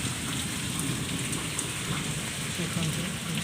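Heavy rain in Keonjhar, a dense, constant roar of downpour on surfaces, with low thunder rumbling underneath throughout.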